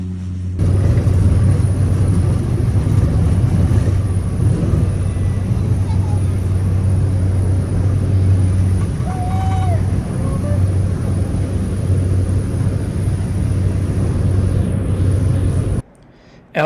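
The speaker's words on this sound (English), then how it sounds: "board our small plane for the scenic flight back to Bridport" Steady low engine drone of a small plane on a scenic flight from Lady Barron on Flinders Island, Tasmania, a continuous loud cabin rumble heard from inside, with a voice speaking over it briefly.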